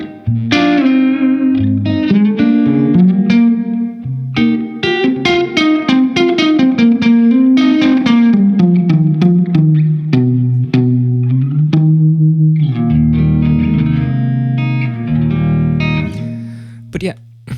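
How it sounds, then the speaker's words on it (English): Electric guitar played through a reverb effect from an FV1 pedal, a flowing run of plucked notes and chords with lush, lingering tails, loud and close, no voice heard. "this is an amazing reverb"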